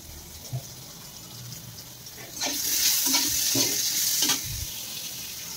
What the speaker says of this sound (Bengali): এই দেখো এখানে পটল ভাজা হচ্ছে